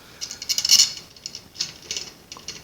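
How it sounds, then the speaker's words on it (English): A screw mount being turned back inward during assembly of a Creality CR-10 V3 3D printer, giving light metallic ratcheting clicks in quick clusters, close and crisp. "I'll screw this back inwards"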